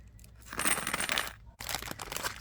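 Small beads clatter in a light, brief rattle as they go back into a paper envelope, with a short pause before a second burst of tiny clicks.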